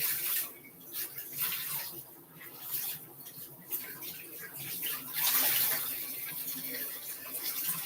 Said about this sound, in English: let's get them washed off, rinsed off, and let's see how much dirt we get